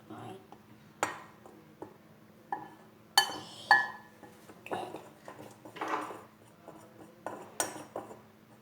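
Pancake batter being mixed by hand in a bowl, with irregular utensil clinks and scrapes against the dish under a steady low hum, while a voice speaks briefly.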